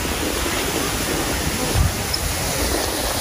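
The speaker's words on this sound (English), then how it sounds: "This beautiful waterfall." Steady broadband rushing of a waterfall at Disney's Animal Kingdom theme park, continuous and even, with a faint brief murmur in the middle.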